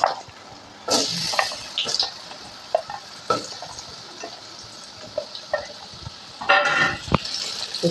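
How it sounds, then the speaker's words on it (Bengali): Potatoes fry in oil with salt and turmeric, a soft sizzle under scattered sharp clinks and scrapes of stirring, with a voice speaking quietly now and then. "একটুখানি লবণ, একটুখানি হলুদ দিয়ে আলুকে লাল লাল করে ভেজে নেব।"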